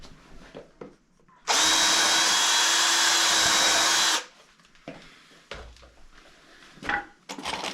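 A power drill drives screws into the legs of a bandsaw bench built from construction lumber: one loud, close, continuous whir lasting about three seconds, followed by quieter knocks and handling noises.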